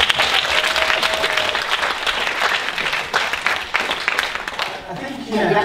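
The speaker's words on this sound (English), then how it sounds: "Can you give them both a clap, please?" Audience applause at a talk on networking for success, a dense, steady clapping from a crowd sustained for several seconds and close, tapering slightly near the end.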